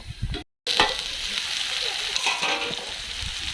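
A chickpea dish is stirred with a ladle in a pan over the heat, giving a close, steady sizzle with soft scraping after a brief pause at the start.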